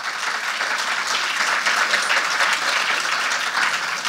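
Sustained, even applause fills the hall from an audience at a Jamaican creative writing competition, a steady dense patter of many hands with no break.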